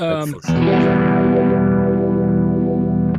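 An electric guitar played through a Kemper Profiler with a vintage phaser before the amp rings out a loud, sustained chord after a brief opening note, its tone swirling slightly as it fades.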